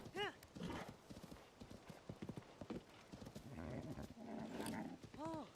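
A horse gallops in Zelda: Tears of the Kingdom, playing a randomizer mod, with quick rhythmic hoofbeats and whinnies near the start and end. The sound is faint overall, with voice-like game sounds mixed in.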